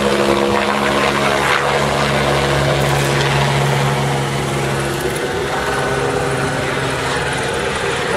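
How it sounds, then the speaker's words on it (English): A helicopter hovers low overhead above an Italian boat race, its loud, steady rotor and engine drone filling the air continuously with a constant throbbing hum and no voices. "this offensive fucking helicopter sitting over our head"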